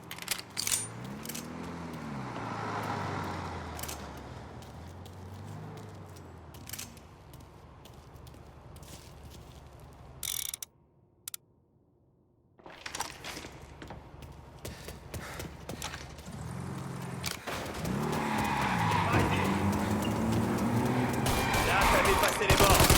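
A truck drives in the Mafia Definitive Edition video game, its engine rising and falling in repeated revving sweeps and dropping out briefly midway before building louder again, with people talking over it.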